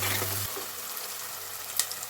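Ginger garlic paste sizzling in hot oil in a pan for a meal maker tomato curry, a steady close-up hiss with a brief clatter near the end.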